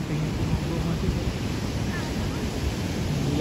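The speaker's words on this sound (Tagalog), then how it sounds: "Ang lakas ng alon, no?" Strong ocean waves crash and roar at the shore in San Juan, La Union. The surf sounds as a continuous, loud rush, mixed with wind buffeting the microphone.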